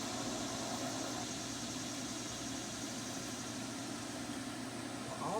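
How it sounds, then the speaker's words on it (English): A blower runs steadily in a garage setting, a low continuous droning hum with a slight vibration, faint and unchanging for the whole stretch, with no voices. "the noise in the background is the blower"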